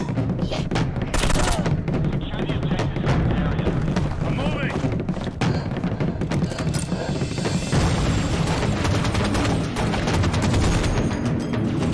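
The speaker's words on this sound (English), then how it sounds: "That's a Halo 2 anniversary plasma turret." Halo 2 Anniversary plasma turret firing in a Halo fan animation, a dense continuous barrage of rapid energy shots and mechanical clatter layered with music and effects, loud throughout, with a person talking over it.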